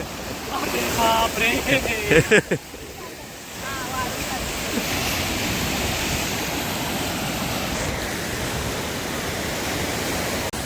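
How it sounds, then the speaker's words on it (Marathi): High-tide sea waves at Alibag beach wash in as a steady, loud broadband roar of surf, with a few brief voices and splashes near the start before the continuous rush of water takes over. "हाय टाईड येऊ लागल्या"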